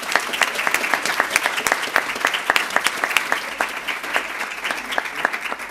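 Audience applause for state advisors at a HOSA closing session, dense crowd clapping with sharp individual claps standing out, sustained and fairly loud throughout, no voices on top.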